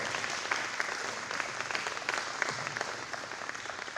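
Guests at a men's breakfast applaud, a steady round of clapping with some sharper nearby claps standing out over the crowd, lasting about four seconds.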